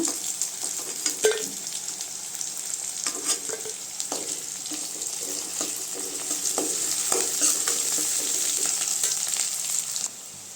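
Onions fry in a pan with a continuous bright sizzle, while intermittent scrapes and clinks of stirring come through over about ten seconds.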